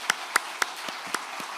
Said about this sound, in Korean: 여러분 큰 박수로 또 격려해 주시기 바랍니다.